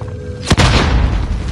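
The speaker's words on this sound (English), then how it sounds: "Got sniped from somewhere else." A single deep, booming sniper rifle shot in a combat video game cracks sharply and then rolls into a long low rumble, loud and close, with steady background noise and no talk.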